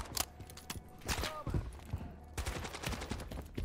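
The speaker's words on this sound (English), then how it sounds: "Here I'm shooting." Gunfire in the Modern Warfare 3 video game campaign, a few sharp bursts of shots spaced across a short stretch, moderately loud over a steady low game background.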